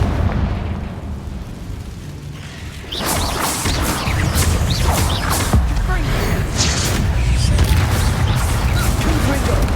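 A Confringo blasting spell in Hogwarts Legacy goes off against a barricade, with a quieter lead-in followed by loud, repeated explosive bursts and crashes. Sharp cracks ring out over a rumbling combat din.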